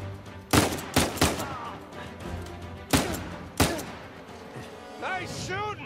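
Gunfire in the video game Uncharted 4 rings out as about five sharp, loud shots in an uneven rhythm, with game music and characters talking underneath.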